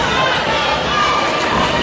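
Basketball crowd noise in the final seconds of a come-from-behind high school win, a dense, steady roar of cheering voices filling the gym throughout.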